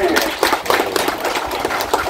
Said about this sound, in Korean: 우리 한번 박수 한번 치시죠